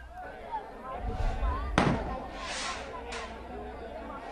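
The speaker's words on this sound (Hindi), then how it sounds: "इस वक्त भी आतिशबाजी हो रही है, कुछ आवाज भी आ रही है" Celebratory fireworks outdoors outside a home after an Olympic javelin victory in Pakistan: one sharp loud bang followed by crackling bursts and a second fainter pop, over crowd chatter and low rumble.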